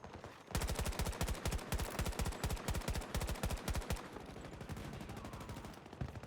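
Gunfire in the Battlefield 2042 video game, played on mobile by cloud streaming, as rapid automatic bursts with a dense rattle of shots that continues loud and close throughout, with no voices.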